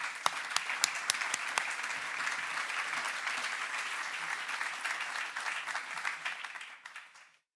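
An audience applauds to welcome a speaker to the podium at a community event, a dense, even clapping that holds steady, then thins and fades out at the end.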